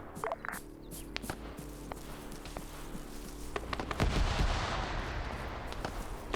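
Gunfire in the military video game Arma during a multiplayer operation on a Pacific map: scattered sharp shots and distant cracks, then a heavier rumbling burst of fire building toward the end, no speech.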